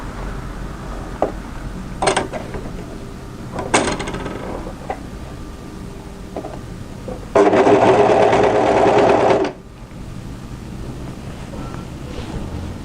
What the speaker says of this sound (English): And start overlocking.